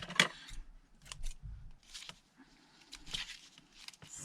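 Scissors snipping paper while making a traveller's notebook, a series of close, crisp cuts in an uneven rhythm with quiet handling noise between them.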